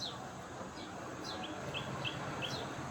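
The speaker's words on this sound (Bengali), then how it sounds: "এই যে পাখির শব্দগুলা কিন্তু অনেক সুন্দর," Small birds chirp outdoors in short, high, repeated calls spaced through a steady noisy background. The calls are faint and a little distant, with no talk.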